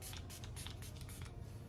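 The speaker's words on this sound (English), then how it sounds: "very refreshing and sprayed like a mist." A close, soft hissing mist of makeup setting spray, several quick pumps blending into a continuous airy spritz.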